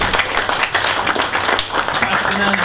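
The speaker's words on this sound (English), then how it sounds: "Another round of applause for that dude." Audience applause at a stand-up comedy night, dense clapping heard close and fairly loud, with crowd noise and chatter mixed in for a few seconds.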